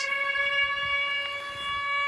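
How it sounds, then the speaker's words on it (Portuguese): Air raid sirens wail in Ukraine during the war, a steady multi-tone siren holding a sustained chord at moderate distance, alone with no voices. "Imagens das janelas e o som das sirenes."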